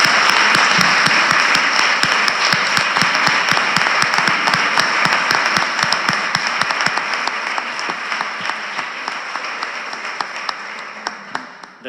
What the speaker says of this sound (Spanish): Un aplauso el doble.